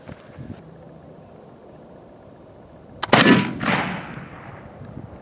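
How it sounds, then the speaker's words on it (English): Single gunshot fired outdoors at a bulletproof plate, a sharp loud crack followed by a rolling echo that fades over a second or two, against quiet wind-like background, with no talking. "So we're going to try the third and if it doesn't shoot, I can't really help it"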